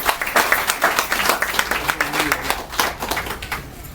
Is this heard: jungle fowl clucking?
no